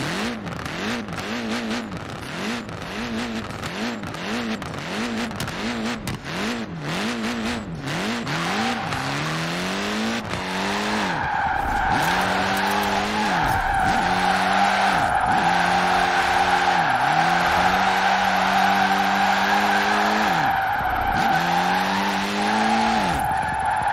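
A Citroen DS 23 with an all-wheel-drive drift build in the Forza Horizon 4 racing game, engine revving up and down with long, loud, sustained tire squeals as the car slides, and no speech.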